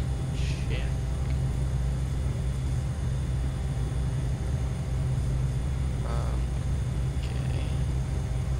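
Cessna 208 Grand Caravan turboprop in Flight Simulator X during takeoff, a steady low engine drone running throughout, with a voice calling out briefly over it.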